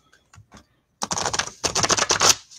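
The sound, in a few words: tarot deck being shuffled by hand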